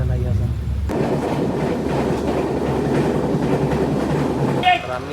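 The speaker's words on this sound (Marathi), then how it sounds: "ट्रेन आलेली आहे आणि आम्ही आता ट्रेनमध्ये बसणार आहे" A train on a Mumbai-area line rolls past nearby with a steady loud rumble and rhythmic clatter of wheels on rails, starting abruptly after a moment of background noise, with a brief higher tone near the end.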